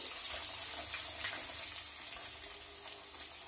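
Crushed ginger and ten to fifteen garlic cloves sauté in a pan, giving a faint, even sizzle with a soft hiss and no voices.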